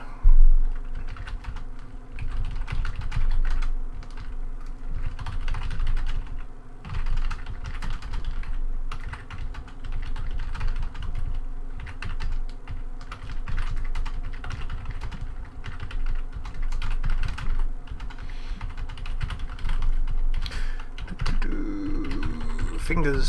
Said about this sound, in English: Typing fingers, smashing things on the table